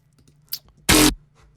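A dubstep growl bass synth with post-processing, heard as one loud, dense, gritty burst of about a quarter second after a faint earlier blip, standing alone with no talk.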